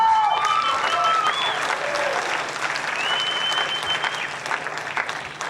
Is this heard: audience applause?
yes